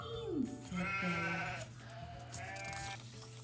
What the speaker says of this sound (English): I hear very loud baaing, said Bella.